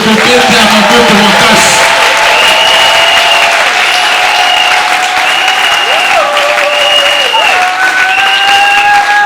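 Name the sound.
congregation acclaiming the Lord with applause and cheers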